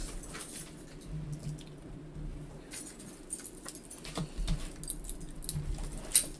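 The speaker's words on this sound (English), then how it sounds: "I am just dropping the cards today." Tarot cards drop onto a surface, making scattered light taps and flicks at irregular intervals against a quiet, faintly noisy room background.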